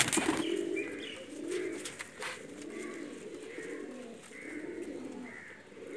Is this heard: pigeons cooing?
yes